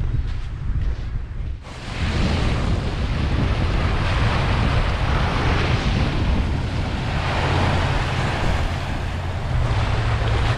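Waves wash onto the beach shore at Biloxi, Mississippi, a loud continuous surf roar mixed with heavy wind buffeting the microphone, steady throughout with no voices.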